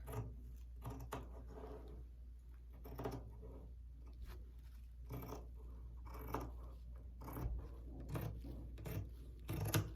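Scissors snip and rasp through fleece fabric while cutting out pattern pieces for a pullover, a series of short, close crisp cuts and fabric rustles over a steady low hum.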